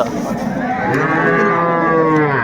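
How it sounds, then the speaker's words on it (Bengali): Young bull calves moo loudly and steadily at a busy rural cattle market in Dinajpur, one long sustained bellow close by with faint background chatter. "ষাঁড় বাচ্চা"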